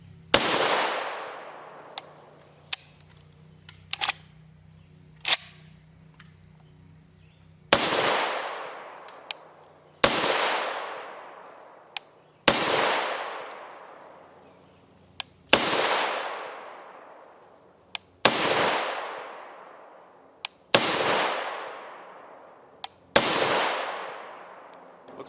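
Gunfire from an FN SCAR 17S SBR rifle firing 7.62 NATO M80A1 rounds outdoors: about a dozen sharp, loud single shots spaced a couple of seconds apart, each with a long decaying echo, plus a few quieter distant reports.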